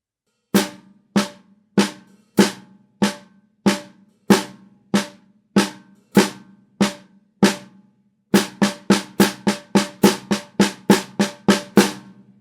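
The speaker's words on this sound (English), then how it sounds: "we would throw in another hi-hat like this" Drum kit playing a paradiddle-diddle in 6/8 with an added hi-hat: a steady, evenly spaced series of sharp hits, then a faster, denser run of strokes, clear and close with no voices.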